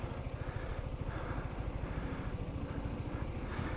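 A 2023 Yamaha TriCity 300 scooter engine idles close by, a steady low throbbing rumble with an even pulse and no talk over it.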